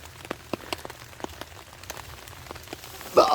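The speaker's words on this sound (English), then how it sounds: "It's still raining." Rain falling on a camp tarp stretched over a hammock, a steady patter of scattered drops tapping the fabric close by, with no voices.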